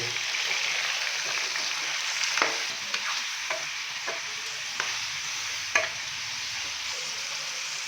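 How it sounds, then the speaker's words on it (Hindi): Beef sizzles in a pan with a constant frying hiss, while a spatula scrapes and stirs in irregular knocks, close and fairly loud. "अच्छे से हम इसको मिक्स करेंगे और इसकी भुनाई कर लेंगे"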